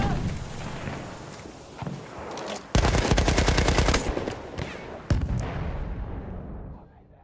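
MG 08/18 machine gun in a World War I shooter at Fort de Vaux, firing a loud, rapid sustained burst of about two and a half seconds, then shorter bursts, amid distant battlefield gunfire and explosions.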